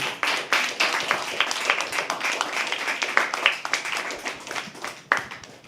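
An audience at a poetry open mic claps, many hands beating in a loose, fairly close patter that continues throughout with individual sharp claps standing out.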